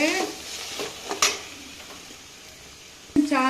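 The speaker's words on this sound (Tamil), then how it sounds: "தேங்காயையும் போட்டு வதக்கணும்" Grated coconut and spices sautéed in a pan for a salna, with a few scraping stirs and light clinks of utensil on metal over a soft sizzle, alone and close.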